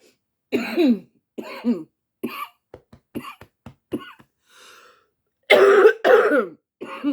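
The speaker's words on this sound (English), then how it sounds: "still got my cough, bear with me" A series of harsh coughs, with brief throat-clearing sounds in between, loud and close, no talking.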